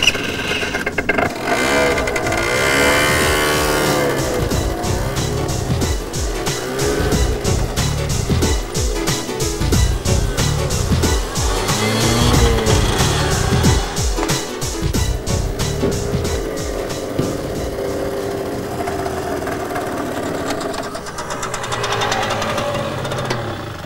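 A moped is started and ridden through a slalom course, its small engine buzzing and revving loudly and continuously, rising and falling as it weaves through the turns up close.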